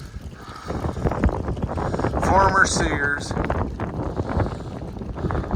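Strong wind buffets the microphone during a dust storm in Idaho at a mall demolition site, a steady rushing roar that swells in the middle, with someone talking over it.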